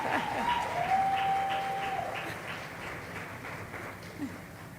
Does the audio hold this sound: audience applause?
yes